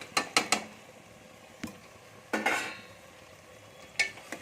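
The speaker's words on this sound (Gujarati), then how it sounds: "એ બધું આપણે હવે એકવાર હલાવી દઈશું એના રીતના મિક્સ કરી લેશું" A spoon stirs fried potatoes and suran for undhiyu, giving a few sharp scrapes and clinks against the pan amid a faint sizzle, spaced irregularly and fairly quiet, with no talking.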